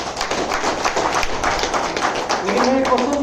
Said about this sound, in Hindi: इसके लिए आप ताली बजा सकते हैं